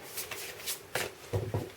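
Tarot cards being shuffled by hand: a few quick riffling and sliding bursts followed by soft taps, close and fairly quiet.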